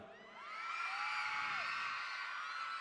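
A concert audience at a Thai TV show in Korat screams and whoops loudly, high excited voices swelling together and holding at full volume.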